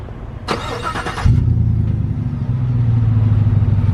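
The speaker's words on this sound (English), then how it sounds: "So let's do this exhaust. We'll get down right here. I showed you these Borla tips a second ago." A car with an aftermarket exhaust fitted with Borla tips starts, with a brief clatter of the starter, then settles into a steady, loud, deep idle rumble that grows a little fuller toward the end.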